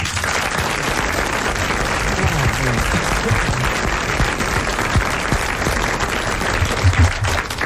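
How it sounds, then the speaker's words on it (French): A French studio audience on a 1980 television show applauds, dense sustained clapping from a large crowd at steady volume throughout. "Je trouve qu'il n'y a pas tout à fait assez de chaleur dans vos applaudissements"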